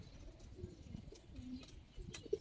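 Giribaz pigeons in a loft give soft, low cooing calls, faint and close, over a quiet background with small rustles and one sharper note at the end.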